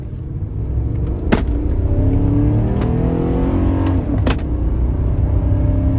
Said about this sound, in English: Let's get out here and do a full throttle.